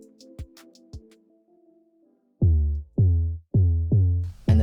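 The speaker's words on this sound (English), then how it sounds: "So the 808, the main 808 that I'm using is the 808E." Four punchy 808E bass hits from a Soundtrap preset, each a deep booming note that drops in pitch and fades. Sparse percussive clicks and a held synth tone come first.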